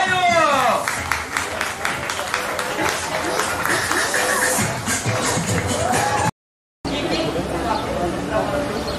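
A crowd at a pirate show in Porto Belo claps and chatters, with shuffling and voices throughout. The sound cuts out briefly and then resumes.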